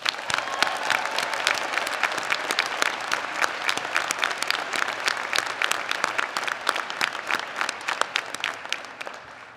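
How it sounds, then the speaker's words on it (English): A large audience applauds at a university nursing college commencement ceremony, a long, crackling wash of many hands clapping at moderate distance that holds steady and then tapers off at the end. "Please join me in congratulating them with a loud round of applause."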